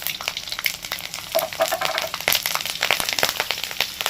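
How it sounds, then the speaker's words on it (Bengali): Spice seeds frying in hot oil with garlic and green chillies, with a loud, busy sizzle full of sharp crackles and pops, plus brief stirring sounds, close and continuous. "বাপরে দানাগুলো ফাটছে হ্যাঁ ওগুলো ভাজা হয়ে গেছে"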